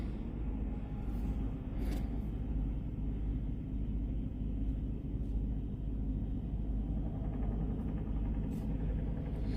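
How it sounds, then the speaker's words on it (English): Road traffic heard from a highway rest area makes a faint, continuous low rumble of passing vehicles at a distance, with no talking. "I am at a rest area, so if you guys are hearing traffic, that's what it is"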